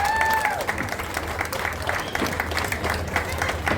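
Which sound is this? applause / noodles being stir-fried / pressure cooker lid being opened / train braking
applause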